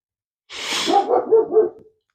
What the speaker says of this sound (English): Let me go shut up them dogs before